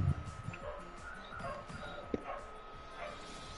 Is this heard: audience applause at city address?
no